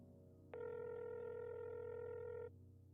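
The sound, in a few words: phone call connecting, from a video game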